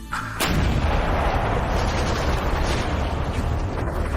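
Autocannon fire in the video game Bastion Forge, aimed at Hive clusters: a sharp opening blast followed by a dense, continuous roar of rapid shots that holds loud and steady throughout.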